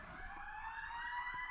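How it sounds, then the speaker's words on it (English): An ambulance siren wails steadily outside, a sustained rising and falling tone that stays clearly audible throughout without any talk over it. "Hold on, there's a ambulance."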